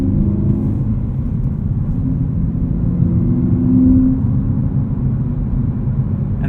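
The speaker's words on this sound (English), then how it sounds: "And that titanium exhaust." An E92 BMW M3 Lime Rock Edition engine rumbles through a titanium exhaust with a deep, steady note, swelling briefly as it revs before settling back to a low drone.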